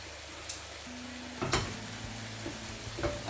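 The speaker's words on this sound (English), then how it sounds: "time by time I'm gonna flip all meat so they cook all same time" Pieces of pepper steak meat sizzle quietly in a frying pan, with a sharp clatter and scrape as they are flipped partway through and a few softer knocks after.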